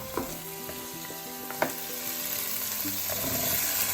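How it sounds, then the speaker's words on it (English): Half-boiled potatoes and mutton frying in a pan for biryani, a loud close sizzle with a few scraping stirs and knocks early on, the hiss swelling steadily afterward, no voices. "Let the potatoes and meat fry for about a minute before you add the rice."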